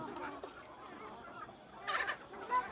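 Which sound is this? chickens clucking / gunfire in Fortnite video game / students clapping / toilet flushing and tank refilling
chickens clucking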